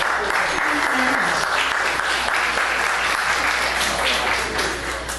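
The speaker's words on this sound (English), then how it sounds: "I thought you were going to clap." A crowd applauds with steady, dense clapping for several seconds, fading slightly at the end.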